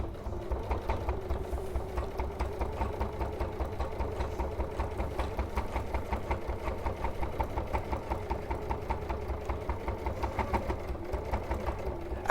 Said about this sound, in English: So I'm just sewing in the bottom.